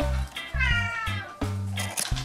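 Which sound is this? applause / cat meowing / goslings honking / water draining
cat meowing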